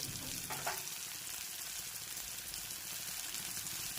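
Masala of turmeric, coriander-cumin powder and goda masala sautéing in a pan for Bhogi vegetable curry, a steady close sizzle and frying hiss running continuously with faint stirring, no voices.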